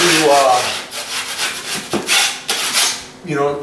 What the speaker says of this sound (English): I'm just going to put a skim coat on. So I'm going to scrape this down a little bit.